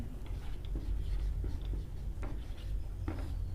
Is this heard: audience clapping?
no